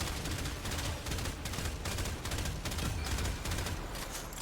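Burst rifle in the game Warframe firing steady repeated three-round bursts in a fast regular rhythm, loud and continuous with no talking.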